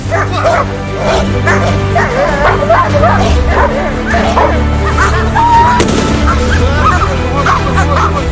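Several National Guard service dogs bark and yip repeatedly during handler training, some whimpering, in an overlapping, continuous chorus that sounds close and loud.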